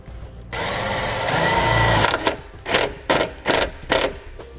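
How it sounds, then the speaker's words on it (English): A power drill drives a self-tapping screw into the body of a 2016 Hyundai Santa Fe, first as one long whirring run and then as several short bursts of the driver, close and loud. "I'm going to be using one of the provided self-tapping screws from our kit, and I'm just going to screw it right into the body here."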